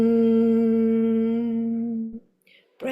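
A sustained, steady hum from people doing a breathing exercise holds for about two seconds, then breaks off into quiet before a short new sound.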